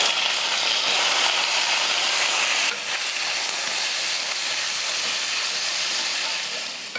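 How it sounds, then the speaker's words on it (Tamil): Sliced eggplant sautés in a pan with onions, a loud, steady broadband sizzle and hiss that holds nearly unbroken throughout, easing slightly toward the end. "கத்திரிக்காயை ஒரு ரெண்டு நிமிஷத்துக்கு இது போல் நான் நல்லா வதக்குனேன்"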